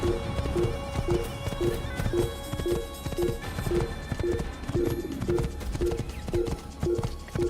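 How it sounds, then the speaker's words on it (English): Rapid, rhythmic hoofbeats of a galloping horse in Assassin's Creed pound steadily and close throughout, with a synthetic game-like quality and faint background noise. "I'm an infidel for riding a horse fast."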